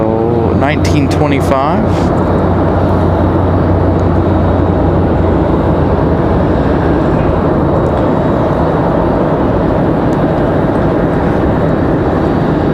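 A Delta airliner departing Raleigh Durham airport bound for Atlanta gives a loud, continuous broadband jet roar that fills the scene, with a person speaking briefly near the start.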